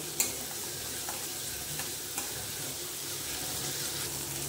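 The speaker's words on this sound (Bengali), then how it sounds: "তো এই যে পোস্তটাকে লাল লাল করে ভেজে নেব" Poppy seeds fry in a pan and are stirred until reddish, with a faint even sizzle, one sharp clink near the start and a few soft scraping strokes.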